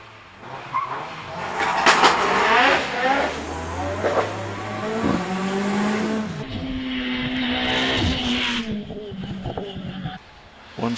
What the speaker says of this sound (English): Nick Wilson there in the Alfa Romeo Mito 1368cc, standard looking Alfa Romeo, but pushing it hard there as he goes around Torres.